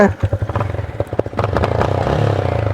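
Yamaha MT15 motorcycle with a raised exhaust cup, engine revving close by in short uneven blips that settle into a steady loud rumble.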